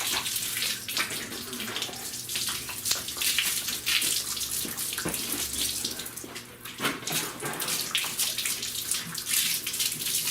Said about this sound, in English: grab a few gallons of water and